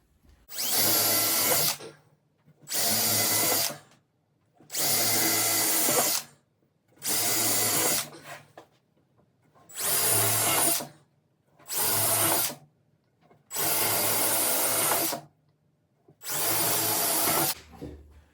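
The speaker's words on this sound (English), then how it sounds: "That's all there is to the drilling of the holes." A power drill whirs in eight separate bursts of roughly one to two seconds each while drilling holes for a honey house build, with short silent pauses between them, loud and close.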